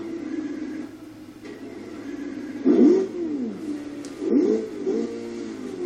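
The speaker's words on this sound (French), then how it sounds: "Écoutez-moi ce moteur" A car engine revs in the racing game Burnout Paradise, a steady mid-pitched drone with two sharp throttle blips that rise and fall, heard through a television with no talking.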